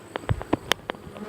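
Honey bees buzz around a hive that is being robbed, a few short, close buzzing bursts passing in quick succession against a quiet background.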